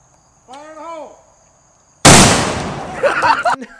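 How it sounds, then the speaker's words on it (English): A homemade potato cannon blows up with a single sharp, loud blast at close range; a shout comes just before it, and the noise trails off under excited voices. "And it blows up all over his face. The potato cannon explodes"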